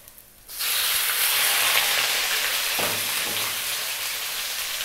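Chicken wings dropped into hot oil with browned garlic for Filipino chicken adobo, bursting into a loud, continuous sizzle that starts abruptly and stays dense and steady, with a brief stir-like clatter partway through.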